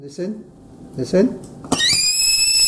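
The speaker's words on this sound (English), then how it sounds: "whistling kettle, yeah?" A whistling kettle, heated by students using liquid nitrogen in Singapore, lets out a shrill, steady high whistle that starts abruptly after brief talk and holds loud and continuous to the end.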